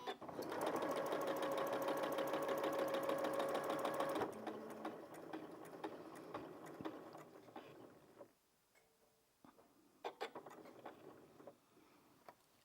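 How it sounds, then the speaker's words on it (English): A sewing machine stitches a festive table runner with a fast, steady, close whirr for about four seconds, then stops, leaving faint clicks and handling sounds, with no talking. "So I'm going to now machine down 1/4 inch, and I'm going to stop with my needle in the mark that I made earlier on."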